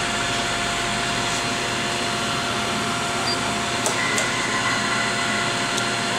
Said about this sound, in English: It will pump down